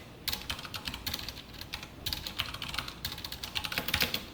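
Code being typed on a computer keyboard during a Java programming lesson: steady, fast runs of light key clicks in uneven bursts, close and fairly quiet, with no talking.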